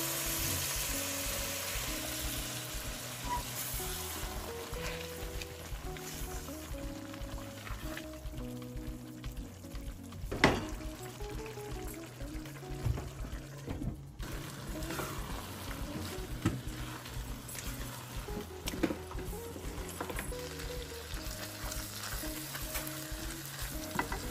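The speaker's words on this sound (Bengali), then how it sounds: "এখন আমি এতে দিয়ে দিব গরম পানি।" Chepa shutki masala, well browned for a loitta bhuna, sizzles and fries steadily in a pan as hot water goes in, with a sharp splash-like burst partway through and continuous crackling, close and alone.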